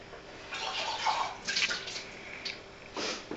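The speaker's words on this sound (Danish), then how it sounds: "Jeg skyller lige kaffefilteret." Running water rinses an espresso machine's coffee filter in short, uneven splashing bursts as the filter is turned under the stream, moderately loud and close, with no talking.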